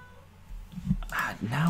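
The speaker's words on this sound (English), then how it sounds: "Now what do you want? You darn cat." A cat meows close by, a short rising call followed by a second meow, with a person's voice speaking around it.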